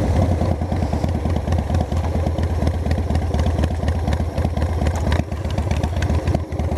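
A Harley-Davidson motorcycle engine, a Softail or Sportster with an aging battery, idles close by in a steady, loud, lumpy rhythm of clattering pulses that runs without a break.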